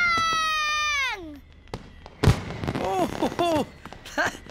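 Cartoon fireworks bangers going off: a whistling rise and fall, then a sharp loud bang followed by crackling bursts and pops, with high sparkling whistles between them.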